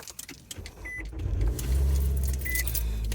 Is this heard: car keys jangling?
yes